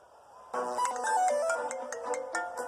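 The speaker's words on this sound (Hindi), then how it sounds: "ये फोन भी अभी आना था।" A phone ringtone starts abruptly and plays a bright melodic tune, loud and close, repeating its short phrase with nothing else over it.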